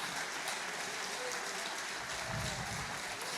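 A church congregation applauding during a sermon, a dense continuous wash of clapping that fills the room evenly from start to finish, with a faint low rumble near the end.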